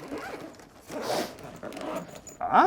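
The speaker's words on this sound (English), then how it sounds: "Zipper on up." A zipper on a storage bag full of soft plastic fishing lures is pulled closed in a few quick close rasping strokes, with a louder final zip at the end.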